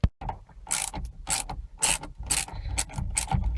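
A hand ratchet clicks in quick repeated bursts while loosening the steering wheel nut inside a 1998 Subaru Legacy, close and loud, rhythmic strokes with brief pauses between them and no speech.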